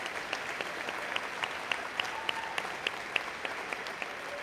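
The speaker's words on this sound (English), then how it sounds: "let's have another round of applause for our prefects" Audience applause at a school prize day ceremony, a steady, fairly quiet wash of clapping from a seated crowd that carries on evenly, with a few sharper individual claps standing out.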